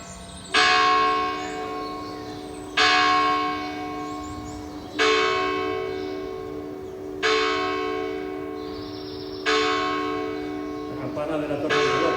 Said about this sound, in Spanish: De la torre del reloj, del patio de la herradura